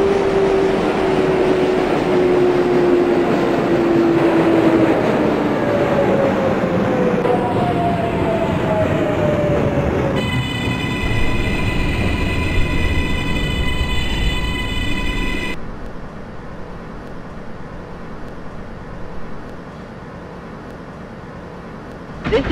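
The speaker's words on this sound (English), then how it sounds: "This is a Manhattan-bound J train." A Manhattan-bound NYC subway J train rolls through the OpenBVE simulator near Kosciuszko Street, a loud continuous rumble with gliding motor whines, then a cluster of steady electronic tones before the noise settles into a quieter hum.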